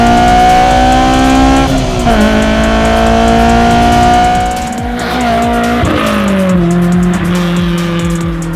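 Honda S2000 engine revving through its exhaust, loud sustained high-pitched wail that rises and dips with gear changes, close and dominant with no talk.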